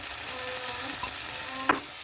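Crushed ginger and a little turmeric fry in a pan with coriander powder for a vegetable dal, a steady close sizzle with a faint stirring scrape near the end.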